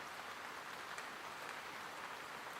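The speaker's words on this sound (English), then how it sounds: "Just the rain sound going throughout the whole song." Rain effect layered through a song's instrumental, a soft continuous hiss of falling drops and patter, steady and fairly faint, with no voices.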